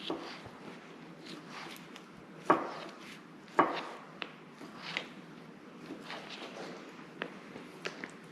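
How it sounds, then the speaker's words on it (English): A knife chops bacon into small pieces on a board, with a series of faint, irregular taps and two sharper knocks near the middle. "instead of using full strips of bacon like we usually do, let's cut this up into nice little pieces for our omelet"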